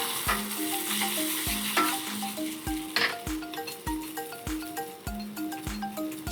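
Batter for an omelette fries in a deep frying pan with a steady close sizzle, while regular light metallic taps and scrapes of a utensil against the pan repeat throughout.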